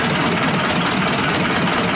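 A Vladimirets T-25 tractor engine idles in a steady, loud, close diesel rumble, with a constant low throb and no variation over the short stretch.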